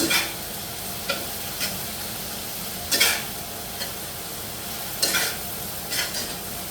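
Shredded cabbage and carrots stir-fry in a hot pan with a steady hiss, while a spatula knocks and scrapes against the metal every second or so.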